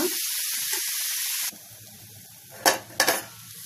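Carrots fry in a pan at a steady broadband sizzle that drops sharply as a plate lid goes on, leaving a muffled quieter hiss, followed by two short clattering knocks near the end.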